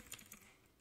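Quick keystrokes on a computer keyboard sitting just behind a microphone, a short faint burst of a few clicks that fades out within a second.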